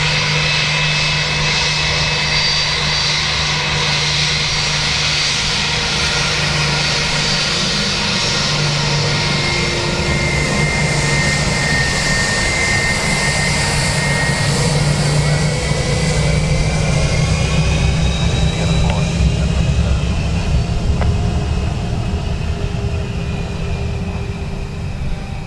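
A wet-leased airliner brought in with its own crew at Dublin Airport, its engines producing a steady, loud roar that holds for the whole stretch with a slowly shifting whine and no talking.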